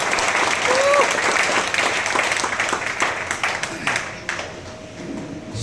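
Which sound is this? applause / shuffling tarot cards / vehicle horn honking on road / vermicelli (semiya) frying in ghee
applause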